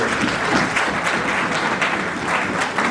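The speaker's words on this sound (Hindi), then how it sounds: "एक बार आप जोरदार ताली बजा दीजिए इस बात पे" A large audience at a Vijay Diwas political gathering of the Loktantra Senani Sangh breaks into loud, sustained applause, a dense, even wash of clapping that holds steady throughout with no pause.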